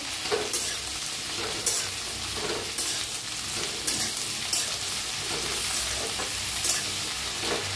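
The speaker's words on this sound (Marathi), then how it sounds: "त्याच्यात भेंडी पहिलं भाजून घेऊया।" Okra frying in a hot pan while being stirred, a continuous sizzle broken by regular scraping strokes of the spoon about once a second, close and clear with no talking.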